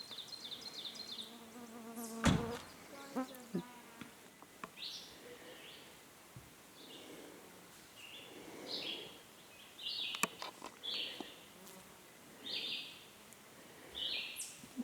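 Insects buzz at a lakeside campsite in the Adirondack Mountains, with faint wings droning and whining past at intervals, scattered bird chirps, and a couple of sharp knocks close by.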